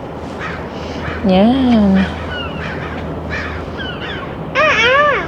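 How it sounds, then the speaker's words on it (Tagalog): Birds call outdoors around a building's common areas in Canada, with harmonic squawking cries in bursts near the start and end and softer chirps between, heard under a person talking. "Mga ibon."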